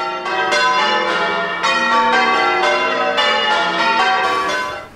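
A ring of church bells cast in 1880 by John Taylor and Company, pealing at a Bollington church, loud overlapping strikes of several bells tumbling in continuous changes with no voices.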